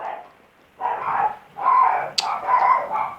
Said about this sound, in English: Do you hear that dog out there?